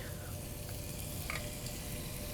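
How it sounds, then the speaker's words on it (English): Julienned white onion and garlic sizzling in butter, a soft steady frying hiss with faint stirring, fairly quiet and without talk. "Then to the butter, we're gonna add some julienned white onion and a lot of garlic."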